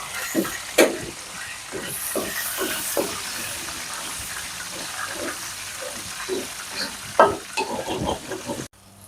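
Steady scraping and clinking of a spoon stirring pepper powder into fish masala with tomato and curry leaves as it fries and sizzles in a pan, with a few sharper knocks against the pan rim.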